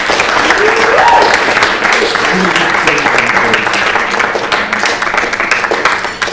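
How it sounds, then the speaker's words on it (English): Audience applauding at a certificate presentation for course graduates, a dense, loud, steady wash of clapping from a crowd that holds for several seconds before starting to thin, with a faint voice or two underneath. "So please give all of those people a big round of applause."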